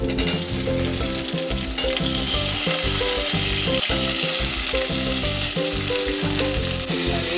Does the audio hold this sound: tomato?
yes